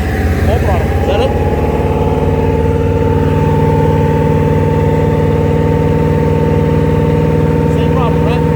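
The engine of a Supra Sunsport boat with an engine fault holds a loud, steady droning hum with strong tonal harmonics at throttle, and voices are heard faintly beneath it.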